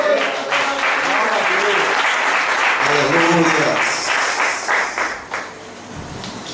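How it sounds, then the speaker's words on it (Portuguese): A church congregation at a communion service applauds steadily and loudly, with a voice shouting a praise word over the clapping before it fades out. "dê um grito de glória e dê um aplauso ao Senhor"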